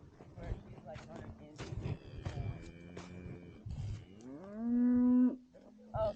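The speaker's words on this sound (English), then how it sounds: "She's a cool little cow." A British White heifer moos repeatedly, with several short lowing calls and then a long, loud drawn-out moo rising in pitch near the end, close by and clear against faint background noise.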